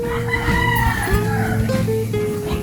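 Chickens in a vegetable garden with tomatoes give long, close crowing and clucking calls that run through the whole stretch, with low rustling and background noise beneath.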